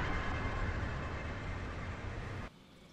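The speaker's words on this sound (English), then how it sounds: "The train now approaching Platform 3 does not stop here." A non-stopping train runs through a platform at Millcastle station, a loud, steady close rumble and rush of wheels that cuts off sharply near the end.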